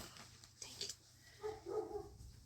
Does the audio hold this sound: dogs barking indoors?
yes